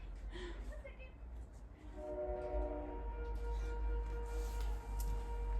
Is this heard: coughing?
no